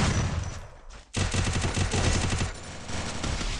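Rapid automatic gunfire in a shooting video game, a loud dense burst that pauses briefly and then resumes as sustained rattling fire close up.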